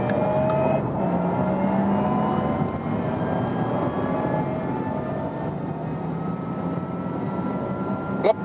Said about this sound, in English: we'll accelerate from 30 kilometers an hour and just go all the way through.